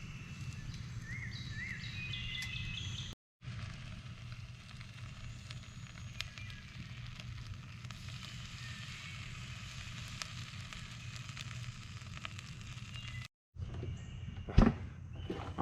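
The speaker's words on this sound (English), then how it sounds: "Well, I can hear it sizzling." Pork tenderloin sizzles on a grill over an outdoor campfire while camping, a steady low crackle and hiss running throughout with two brief dropouts and a faint bird call.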